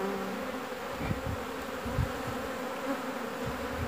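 A dense, steady hum of a honey bee swarm buzzing together, continuous and close, with a few louder bumps now and then.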